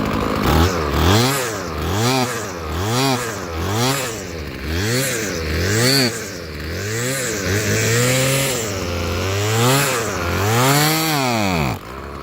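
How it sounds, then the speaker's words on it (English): A Poulan weed eater salvaged from a dump runs close by, its small two-stroke engine revving up and down in repeated rhythmic surges with a raspy, buzzing whine, about ten throttle blips in a row. "Got a good running weed eater."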